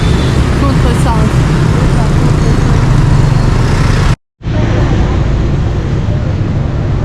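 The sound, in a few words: Hanoi street traffic, vehicles driving against traffic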